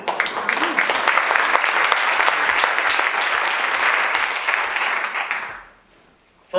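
An audience at a graduation ceremony applauds in a dense, sustained wave of clapping that fades out near the end, followed by a brief sound as it settles.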